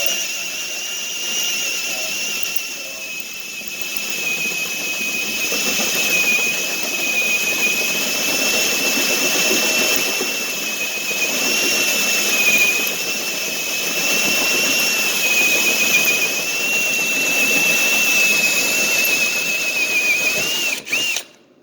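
A steady, high-pitched whine of a hole saw drill grinding continuously through material, loud and close, cutting off abruptly at the end.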